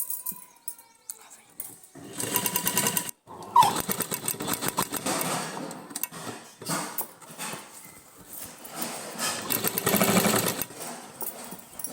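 A domestic sewing machine stitches a hook onto a blouse, running in steady mechanical bursts with brief pauses and one short stop, close and moderately loud throughout.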